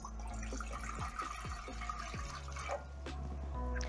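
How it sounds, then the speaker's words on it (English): Two cups of water poured into a cooking pot set over a medium flame for herbal tea, a steady close trickle and splash with a few sharp drips, heard alone with no talking. "so I'm going to add the water in the pot."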